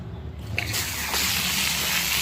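Warm water gushing from a hose into a calf milk container, a steady rushing flow that starts abruptly and swells louder, close by with no talk over it.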